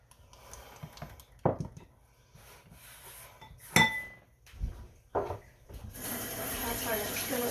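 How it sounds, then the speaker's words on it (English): A heavy cast iron skillet is shifted across a home kitchen counter during sourdough dinner roll baking, giving several dull knocks and clanks spaced apart, with running water and dish clatter in the background. "Cast iron skillet moved over."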